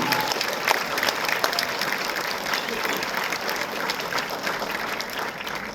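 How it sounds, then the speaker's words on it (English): Graduation audience applauding steadily and densely at a class of 2026 ceremony, a continuous wash of many clapping hands. "give yourselves a round of applause"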